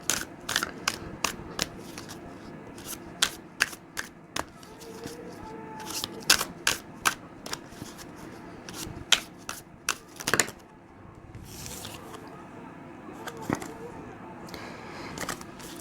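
Tarot cards are shuffled by hand in a quiet room, producing repeated sharp riffling snaps and slaps at an irregular rhythm, close to the listener, with a faint voice murmuring in between.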